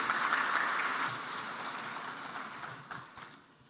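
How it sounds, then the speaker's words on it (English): Audience applause for a speaker at an energy summit, a full steady wash of many hands clapping, fading out as the clip ends. "let's give him another round of applause."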